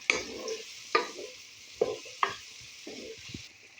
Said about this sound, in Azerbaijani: Daha sonra üzərinə soğanları əlavə edirəm və onları yaxşı qızardıram